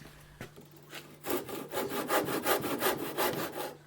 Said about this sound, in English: We can saw the sides using a bench hook in the usual way.